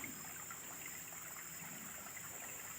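Water trickles steadily into a pond being drained, a faint, continuous gentle flow with no voices.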